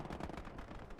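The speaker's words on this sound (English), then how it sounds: "MG42 that we picked up, but we're just kind of shooting short" MG42 belt-fed machine gun in the video game Gates of Hell: Ostfront, a dense rapid burst of gunfire, steady and rumbling for about a second, quiet and distant-sounding.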